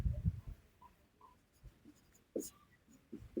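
Writing on a board during a chemistry class: faint, scattered scratchy strokes in short bursts with quiet gaps, close and soft, with no talking.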